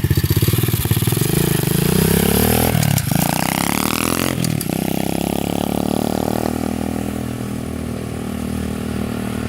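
An SSR 125 pit bike with a carburetor fault runs close by, its small single-cylinder engine revving up and dropping in sweeping surges before settling into a rough, uneven idle.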